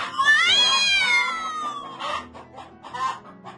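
A hen clucks loudly in a rising, sustained call, followed by several shorter clucks, with a cat-like cry mixed in, heard up close with no talking.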